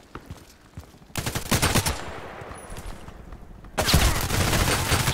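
Fire from the Viker rifle in Contract Wars comes in rapid automatic bursts: a short sputter of shots, then a long loud burst, a pause, and a second sustained burst, close and sharp.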